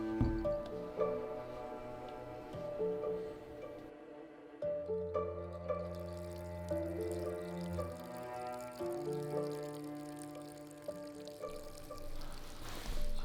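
Liquid pours and trickles with gurgling, bubbling tones that rise in pitch as a vessel fills, close and moderately quiet.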